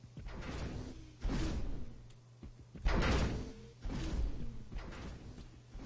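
A game level's door sound effects repeat several times, each a whooshing slide with a thud as the door opens or closes, loud and spaced about a second or two apart.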